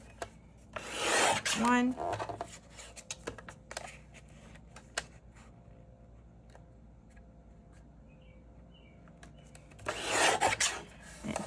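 Paper pieces cut by hand for a handmade mini album, heard as two short bursts of dry, rasping cuts, one early and one late, with quiet rustling between them and a brief spoken word.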